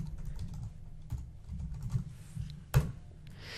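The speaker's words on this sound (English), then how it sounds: "I'll just type in, we'll say book equity." A short run of soft, close computer keyboard typing, muffled key taps with a low thudding undertone, ending in one sharper louder keystroke near the end.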